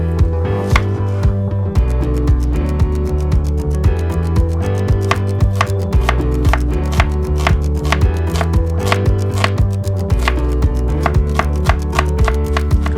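A knife chops food on a cutting board, with rapid, regular, close knocks continuing in a steady rhythm and brief pauses between runs.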